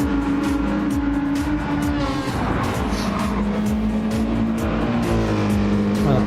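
GT3 race car engine in a racing video game, held at full throttle along a straight with a steady high-pitched drone and a gear change midway, loud and continuous, with someone talking over it.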